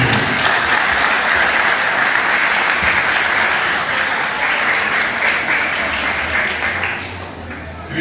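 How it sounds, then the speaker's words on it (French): A church congregation at St Paul parish in Torbeck claps warmly. The applause is loud and continuous, then thins near the end as a low hum and a voice emerge beneath it. "Encore une fois, un chaud applaudissement pour le grand Dieu."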